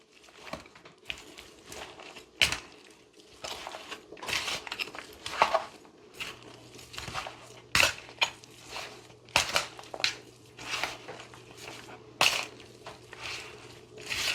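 Curry goat ingredients with scotch bonnet pepper being stirred together in a pot, giving a run of close, irregular scraping and clinking knocks with soft crinkly rustles between them, and no talk.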